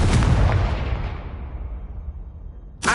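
A loud Confringo blasting spell explosion in Hogwarts Legacy opens with a sharp boom whose rumbling tail fades over two seconds, followed by another sudden blast at the very end.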